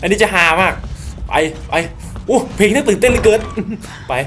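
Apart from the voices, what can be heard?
No distinct noise like a dog, phone or traffic.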